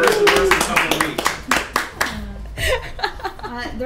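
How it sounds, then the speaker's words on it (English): A short burst of hand clapping from a small group, with a chuckle mixed in, fading into a voice speaking. "Round of applause for Toast"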